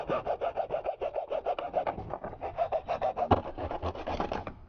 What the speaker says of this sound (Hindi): तो दोस्तों इसको हम आधा आधा काट देंगे यहीं से।